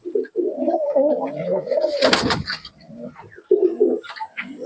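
Malbai pigeons in a loft cooing, soft repeated throaty coos close by, interrupted by a brief burst of fluttering or rustling.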